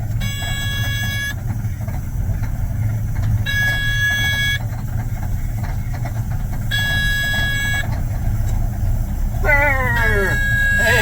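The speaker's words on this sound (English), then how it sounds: "The loader is starting to warm up here." A Cat 980F wheel loader's diesel engine rumbles low and steady while warming up after a cold start. Bursts of high, tonal beeping or horn-like tones sound intermittently over the rumble.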